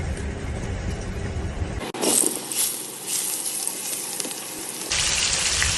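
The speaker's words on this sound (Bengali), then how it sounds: "এখন মাছটাকে ভেজে নেব।" Pangas fish sizzling in hot oil in a pan, a steady hissing, crackling fry close up that surges louder partway through as more spattering sets in, with no talking.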